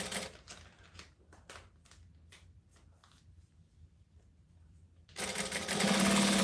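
Sewing machine top stitching along vinyl, a run of quick separate needle clacks at moderate level, then a louder continuous whirring stretch as the machine speeds up near the end.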